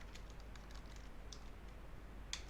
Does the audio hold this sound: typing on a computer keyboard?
yes